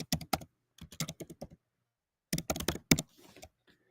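Typing on a computer keyboard: two quick bursts of close, crisp key clicks separated by a short silent pause, with no talking.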